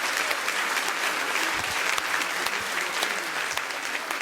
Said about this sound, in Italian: Eccola qua, un applauso per Flavia Locche, sindaco di Tonara.